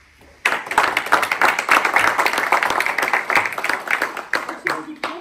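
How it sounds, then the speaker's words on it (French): Sudden loud applause breaks out from a crowd at a town ceremony honoring a youth municipal council, sustained steady clapping that fades slightly toward the end. "On peut vous applaudir."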